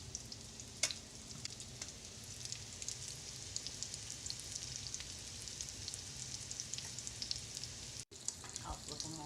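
Blue crabs frying in a pan of oil and butter, a soft continuous crackling sizzle with scattered pops, close and fairly quiet, with a brief dropout near the end.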